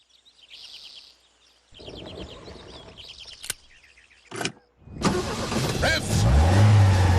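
A car engine starts and revs, with high whirring and short bursts building into a loud, rough, sustained roar in the final seconds, preceded by quieter mechanical whines and clicks with brief silent gaps between them.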